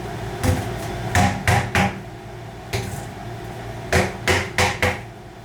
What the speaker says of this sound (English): you can either hammer them in with a hammer